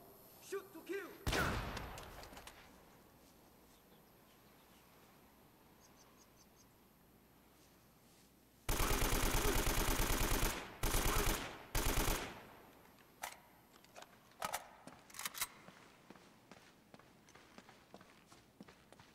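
Gunfire in Uncharted: Drake's Fortune: one early shot, then quiet ambience, then a loud rapid burst of automatic fire in several quick volleys, followed by scattered single shots and short bursts.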